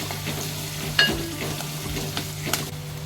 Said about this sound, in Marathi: त्यानंतर कढीपत्ता परतवून घेऊया